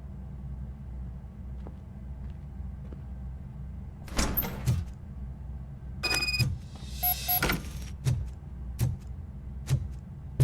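A door opens in Robocop: Rogue City with mechanical clunks, a sliding whoosh and sharp metallic knocks over a low ambient rumble, heard alone.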